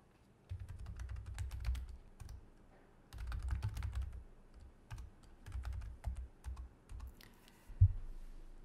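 Steady typing on a computer keyboard as blog post text is entered, bursts of close, soft key clicks with short pauses between runs and a firmer tap near the end.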